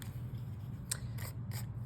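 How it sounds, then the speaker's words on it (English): Scissors trim a piece of card or paper in a few quick snips, crisp and close against a low steady hum, with no voices. "and I take my scissors again,"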